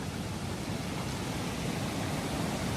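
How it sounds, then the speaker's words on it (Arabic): A strong river rushes in a continuous, loud, broadband roar beside a salmon fishing spot, with no pauses or other sounds breaking through. "صوت المي كلش قوي"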